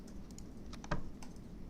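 Computer keyboard key presses and mouse clicks while working in material editing software, a few faint scattered taps with one sharper, louder click near the middle, alone in a quiet room.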